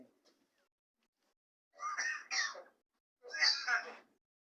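A mynah bird imitates a human cough: two bursts of harsh, rasping, cough-like sounds, each a quick double hack, separated by a short pause, fairly close.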